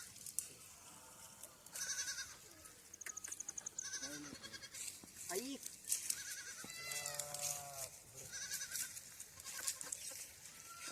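Goats and sheep bleat repeatedly at a distance, several animals calling in overlapping bursts over a faint outdoor background.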